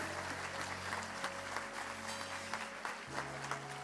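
Crowd applause at a church service, a dense steady clatter of clapping hands, with a low sustained musical tone underneath.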